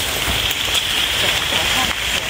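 Heavy rain pours down outdoors during mushroom foraging, a dense, continuous hiss of drops on surfaces, loud and close for the whole stretch.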